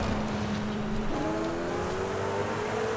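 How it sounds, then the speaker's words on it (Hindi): A modified Koenigsegg Jesko hypercar engine in a racing video game drones steadily and loudly up close, its pitch climbing as it accelerates through a drift. "नहीं ये तो मेरी गाड़ी की आवाज है"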